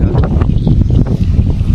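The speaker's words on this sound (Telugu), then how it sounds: "గాలి మాత్రం భలే తాగుతుంది." Strong wind gusts across an open plot of land, buffeting the microphone with a loud, low, rumbling roar.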